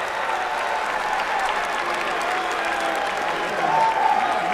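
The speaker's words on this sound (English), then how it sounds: "There he is, giving himself a round of applause" Steady applause and crowd cheering fill a large hall as the Kansas City Chiefs take LSU defensive tackle Glenn Dorsey fifth overall in the 2008 NFL Draft, with a continuous even roar that swells slightly near the end.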